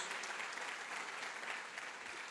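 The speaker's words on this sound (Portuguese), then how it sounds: "Vamos aplaudir ao Senhor." A church congregation at a Sunday-morning worship service applauds, a dense, steady wash of many hands clapping together, close and full for the whole stretch with no voices standing out.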